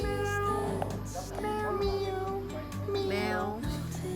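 A cat meows repeatedly at close range, with several drawn-out cries amid people talking nearby at a coffee shop.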